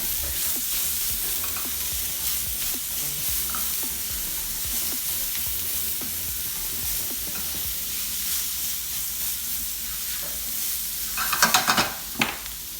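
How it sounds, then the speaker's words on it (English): Sliced peppers stir-fry for Quorn enchiladas, a constant close sizzle with faint utensil taps, ending in a brief burst of louder scraping and clattering as they are tossed around the pan. "I'm going to fire the peppers into there as well. And we're just going to give those a little mix around"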